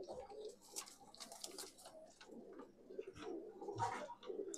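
Punjabi pigeons, including Taka pigeons, coo softly at close range, their repeated throaty calls overlapping at a low level.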